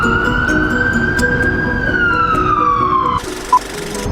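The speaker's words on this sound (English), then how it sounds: "Siren in my video." A loud siren wails steadily for about three seconds, its tone slowly falling, then cuts off abruptly, leaving a brief quieter stretch with a short blip.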